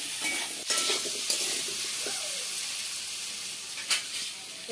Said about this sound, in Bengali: আলু লবণ হলুদ দিয়ে তেলে ভালো করে ভেজে নিতে হবে, লাল লাল করে